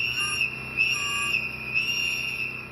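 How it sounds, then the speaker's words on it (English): A single whistle is blown used as a community alert, giving a steady shrill tone held for nearly three seconds with slight warbles, loud and close, alone without talk. "you see Miller making a move for Juan, blow that whistle"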